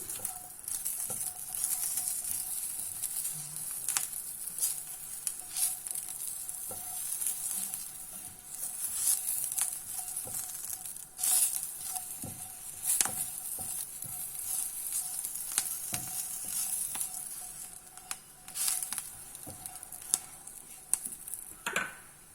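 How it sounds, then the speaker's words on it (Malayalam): Two slit green chilies fry in hot oil in a pan while cooking for a potato rice dish. A soft, steady sizzle runs throughout, broken by scattered crackles and small clicks as they are stirred, and nobody speaks. "ഇനി ഒരു 2 പച്ചമുളക് കീറി വെച്ചു, അതൊന്ന് ചെറുതായിട്ട് മൂപ്പിക്കണം."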